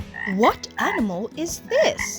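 A frog croaks in three loud, warbling calls with short gaps between them, while a voice asks a brief question over the sound.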